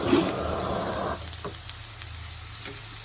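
Garlic cloves fry in oil for a pickle, a loud dense sizzle that drops sharply after about a second to a quieter, thinner hiss with occasional small pops and a faint low hum underneath.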